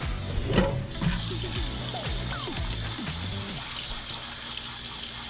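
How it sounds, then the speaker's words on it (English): Tap water runs steadily into a kitchen sink while potatoes are rinsed, with a few splashy surges and clunks near the start before it settles into an even, close rushing stream. "How many times do I want to rinse my potatoes? Till the water's clear."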